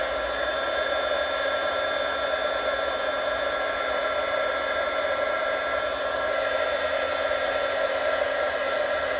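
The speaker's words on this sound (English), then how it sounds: "let's take our heat tool, let it heat up a bit, and then we're going to melt the embossing powder." Electric heat tool melting embossing powder on a Christmas card, a steady, even blowing whoosh that runs unbroken close by with no talk.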